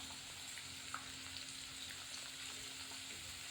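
Onions and curry leaves sautéing with salt in a pan, a soft, steady sizzle that stays quiet and even throughout with no talk over it.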